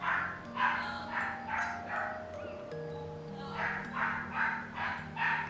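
A dog barks repeatedly in a steady series of yips and bow-wows, fairly close, with sustained tonal game music and faint speech underneath.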